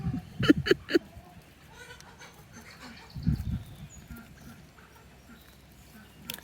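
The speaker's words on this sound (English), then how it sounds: "Those are Nubians, and the all white are Savannah goats." Nubian goats, some brown and white or black and white, and all-white Savannah goats bleating in a farm pen, with two close bleats early on and another a few seconds later over faint background noise.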